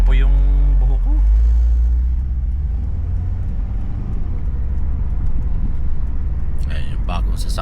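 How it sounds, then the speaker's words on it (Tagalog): A car idles close by with a steady low rumble throughout, while people chat over the engine noise. "Ay, yung bagong sasakyan ni Sadik."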